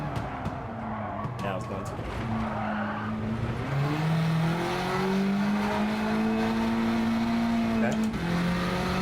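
Racing video game car revving and accelerating on a track played with a Fanatec GT DD Pro wheel, engine pitch climbing through gears with tire squeal and skidding noise, someone talking briefly over it.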